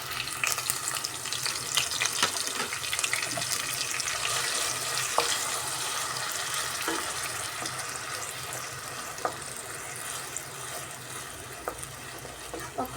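Onion paste made from two medium onions frying steadily in oil in a pan, a constant soft sizzle with faint scattered clicks, close and even throughout.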